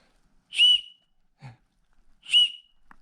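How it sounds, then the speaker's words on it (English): Two short, shrill blasts from a first aid kit whistle sound close by, separated by a pause, with faint small noises in between. "Let's see how the whistle sounds."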